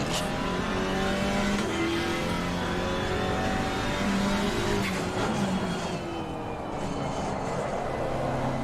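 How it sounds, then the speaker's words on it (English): A KTM GT4 race car in Assetto Corsa Competizione runs under steady, loud engine drone with shifting harmonics, and its turbo blow-off valve chatters in brief bursts as the throttle lifts. "Now the KTM's got a sweet blow-off valve on the turbo. A sweet little turbo chatter."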